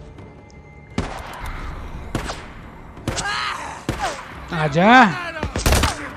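Gunfire in the zombie video game Days Gone, several sharp shots and thuds scattered across a busy mix of game sound, with someone talking over parts of it.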